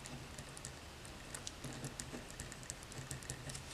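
A paint brand name written by hand on paper: faint, irregular scratchy ticks and light taps close by, with no talking.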